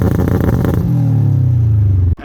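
A 2.1-litre stroker Subaru Impreza WRX STI engine, running through a second-hand aftermarket exhaust, burbles loudly up close, then revs and settles into a falling, droning tone before cutting off abruptly.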